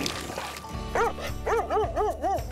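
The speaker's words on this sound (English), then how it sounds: "the dogs are barking, but the fish aren't biting" Dogs bark at a dock at Little Bow Provincial Park, a run of five or six quick, close yaps in fairly even rhythm after a brief stretch of background noise.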